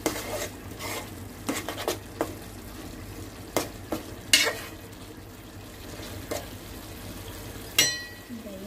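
Masala mixture for egg biryani is stirred in a frying pan, with a soft, low sizzle under repeated scraping and clinking of a spoon against the metal pan at irregular intervals, close by.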